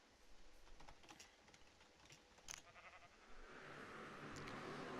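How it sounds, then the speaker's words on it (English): Sheep bleating in the Minecraft mod Riftcraft, a few faint game bleats over low background noise and keyboard tapping. "Hello, sheep!"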